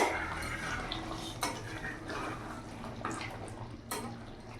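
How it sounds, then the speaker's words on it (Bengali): A lid is lifted off a pot of simmering chicken bhuna, giving a couple of faint metallic clinks over quiet kitchen background noise. "এখন ঢাকাটা খুলে দেখবো।"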